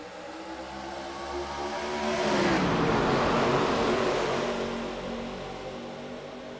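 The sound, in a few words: race cars restarting at Daytona, from iRacing video game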